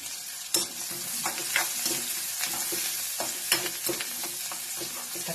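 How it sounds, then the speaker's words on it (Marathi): Onions frying in a pan, a moderate steady sizzle broken by repeated clicks and scrapes of a spatula stirring, with no one talking. "कांदा चांगला भाजायचा"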